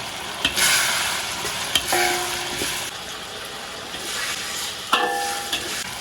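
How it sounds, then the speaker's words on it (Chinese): Soybean paste and chili bean paste fry with scallion, ginger and garlic in hot oil, a steady close sizzle broken by scraping stirs and a few bright metallic clinks of a spatula on the wok. "勺黄豆酱，爆香炒出红油"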